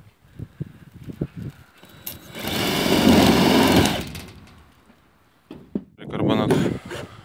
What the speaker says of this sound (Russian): И сразу же прикручиваем обрамление к прогону.